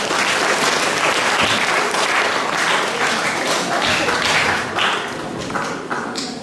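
An audience at a religious moderation seminar in Kupang applauds the speakers, dense sustained clapping from a large crowd that fades slightly toward the end.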